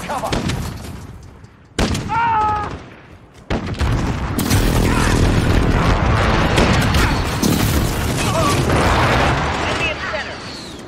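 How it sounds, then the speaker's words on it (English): Explosions from a precision airstrike in the video game Modern Warfare: heavy, sustained booming blasts and crackling gunfire that fill most of the stretch, loud and close, with voices talking over parts of it. "Enemy precision airstrike, take cover."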